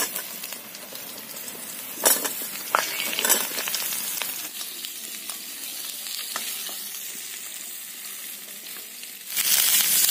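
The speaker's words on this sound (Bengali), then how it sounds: "ফোড়নটা ভাজা হয়ে গেছে, এবার এর মধ্যে আমি পেঁপে আর আলু দিয়ে দিচ্ছি।" Pieces of papaya and potato sizzle steadily in hot oil with fried whole spices, with occasional louder bursts and scrapes as they are stirred in the pan.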